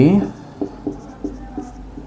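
Writing on a board during a maths lesson on quadrilaterals and rectangles, heard as a series of short, evenly spaced strokes after a brief voice at the start, close and moderately clear.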